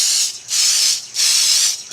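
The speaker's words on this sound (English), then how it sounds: "I just gently spray." Pixie spray is misted gently onto glitter glaze in soft, repeated hissing bursts, about four close pulses separated by brief pauses, with no talking.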